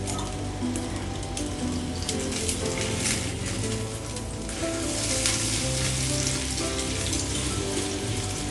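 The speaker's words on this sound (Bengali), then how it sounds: "এভাবে ডিম ভাজি কখনো করিনি" An egg fries in a pan with a continuous dense sizzle and crackle, close and steady throughout, with no speech.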